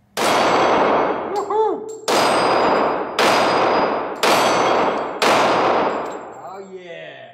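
Five sharp gunshots from a Glock 23 Gen 3 pistol in .40 S&W, fired at a steady pace about a second apart, loud and close with ringing decay; a brief cheer comes in between shots.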